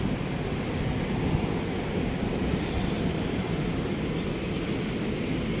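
Steady wind and surf at Dolomite Beach on Manila Bay, a constant low rushing roar with no breaks, fairly loud and close throughout.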